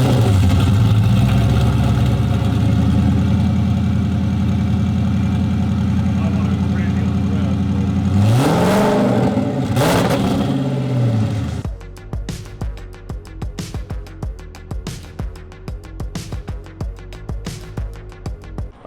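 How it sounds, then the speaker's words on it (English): A turbocharged car engine with external blow-off valves idles loudly, revs up twice with rising and falling whooshes, then drops to a quieter, choppy rumble for the rest of the stretch. "We're going to get a little more blow-off noise because we've got external blow-off valves."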